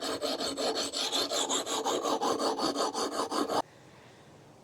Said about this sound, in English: I'm able to remove a lot of metal with this file